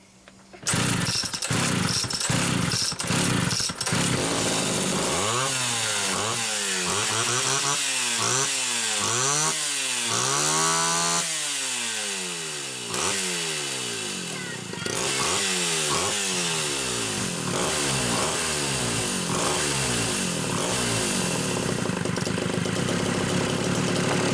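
A Homelite Super XL chainsaw running after a carburetor fuel-hose fix, with a few pull-start strokes, then the engine repeatedly revving up and dropping back to a rough idle before settling into sustained loud running, close by.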